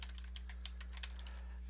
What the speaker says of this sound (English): And let's just say I'm going to type in introduction.